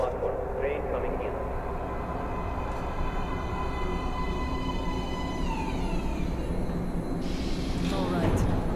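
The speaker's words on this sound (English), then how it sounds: "Please step away from the edge of the platform. Train coming in." In Metro: Last Light Redux, a metro train rumbles into a station platform with a steady low roar and rising metallic whines. Voices are heard underneath the noise.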